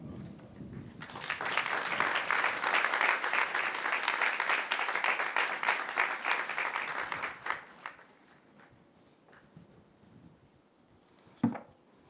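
An audience at a university commencement ceremony breaks into loud, sustained applause to welcome the speaker, lasting several seconds before fading out, followed by quiet with a brief thump near the end.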